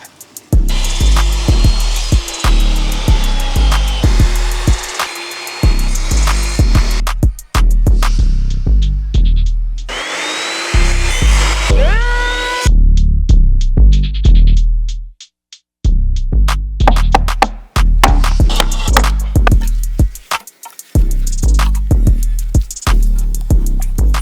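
Bamboo being cut into pieces with a power saw for building a coconut tree house, repeated loud bursts of buzzing cutting separated by short pauses, no talk.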